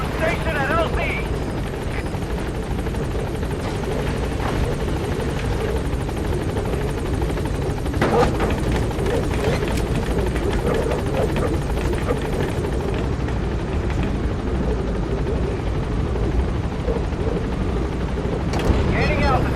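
Support helicopter in Metal Gear Solid V, a steady loud rotor thump and turbine whine running throughout, mixed with game effects and a radio voice speaking over it.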